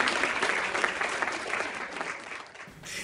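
Sustained applause from an audience greeting a guest, dense and fairly loud throughout, easing slightly toward the end.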